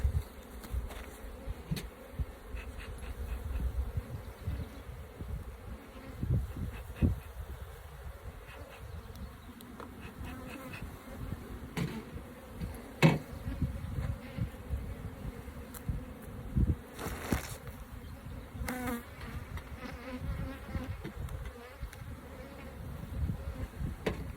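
Honeybees buzz continuously at close range, a dense droning hum with occasional louder passes as individual bees fly near.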